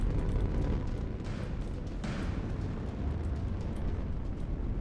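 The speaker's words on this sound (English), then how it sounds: "One torpedo hit into one of the monitors, making it very orange, but not really removing it from the match" A torpedo strikes a warship in the space fleet battle game Nebulous: Fleet Command, landing as a deep, sustained rumbling boom amid constant low combat noise, with no speech.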